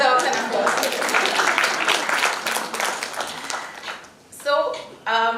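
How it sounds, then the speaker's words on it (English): Audience applause at a grand installation ceremony, a thick wash of clapping that slowly fades out before a speaker's voice comes in at the end. "I think she deserves an applause"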